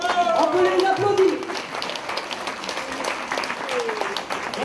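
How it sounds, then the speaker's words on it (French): Audience applause at a seniors' show in a care home in Moissac, a steady wash of clapping from a room full of people. It sounds a little louder at the start and carries on with a faint murmur of voices underneath. "On peut les applaudir."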